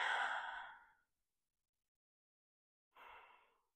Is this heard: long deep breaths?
yes